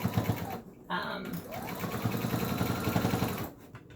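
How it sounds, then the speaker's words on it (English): A sewing machine with a heavy 90-weight needle stitches thick towel fabric for a hooded towel: a close, rapid mechanical whirring in short bursts broken by brief pauses and clicks. "And then we're just gonna sew all the way down."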